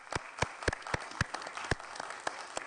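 Sparse, separate hand claps from a small audience at a county commission meeting, about a dozen distinct slaps spread unevenly across a short stretch and fairly quiet throughout.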